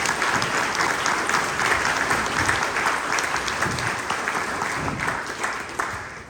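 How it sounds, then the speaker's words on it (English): An audience at a county commissioner candidate forum warmly applauds all five candidates, a full, steady round of clapping filling the hall for several seconds before tapering off. "Let's give all 5 candidates a warm round of applause."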